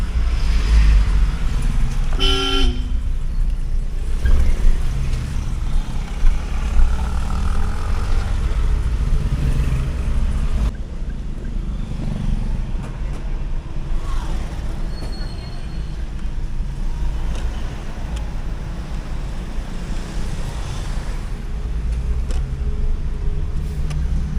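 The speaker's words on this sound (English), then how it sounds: "And this road always traffic." Steady, loud road traffic on a busy street in Balibago, Angeles City, with a continuous rumble of passing cars and engines throughout and no clear voices over it.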